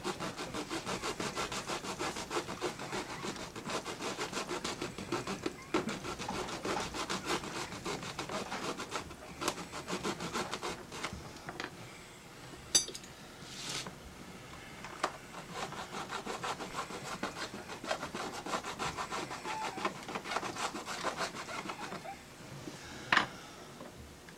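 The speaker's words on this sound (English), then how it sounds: "we'll use a piece of a hacksaw blade to rough the epoxy out" A piece of hacksaw blade roughing out hardened epoxy on a model railroad crossing, a steady close scraping and rasping rub that continues throughout with small knocks and brief pauses.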